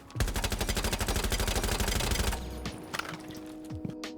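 Rapid automatic rifle fire from Jäger's gun in the video game Rainbow Six Siege, a loud, steady burst of closely spaced shots lasting about two seconds, then fading into quieter game ambience with a few faint clicks.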